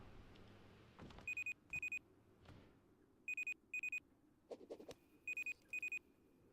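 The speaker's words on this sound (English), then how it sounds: "So let's go see if this pager's beeping." Pager in the survival game Rust beeping after a trap is tripped: paired bursts of high electronic beeps repeat at a steady rhythm over low background noise, with no talking.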